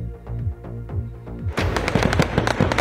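Rapid bursts of gunfire and explosive cracks in Istanbul and Ankara during a coup attempt in Turkey erupt suddenly and loudly, following a low droning, harmonic hum at the start.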